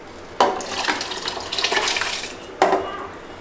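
Water poured into a pressure cooker over raw rice for biryani, a splashing gush with two sharp onsets, close, steady between them, no talk.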